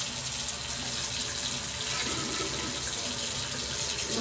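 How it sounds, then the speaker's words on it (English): Water runs steadily from a sink tap while a bottle is rinsed, a constant loud hiss and splash with no talking. "Gotta rinse it."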